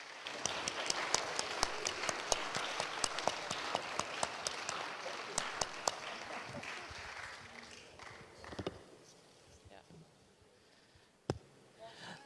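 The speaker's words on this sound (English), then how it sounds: "I want a big applause for my guests" An audience claps for the panel guests at a conference closing plenary session. The applause is steady and broad, then thins out to scattered claps and some background murmur.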